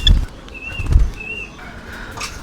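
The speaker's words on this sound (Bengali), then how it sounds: "খুবই সভ্যশান্তি একটা ঘুঘু পাখি এখানে আছে" A pet dove coos softly in a home aviary, joined by a few dull low thumps and faint bird rustling.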